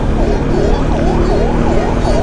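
A wailing ambulance siren sweeps up and down steadily and loudly over engine and road rumble, heard from a motorbike on the Nepali highway between Mugling and Naranghat.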